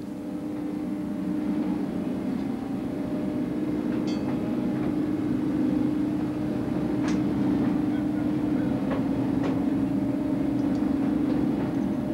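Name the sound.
mine carts rolling on a twin rail track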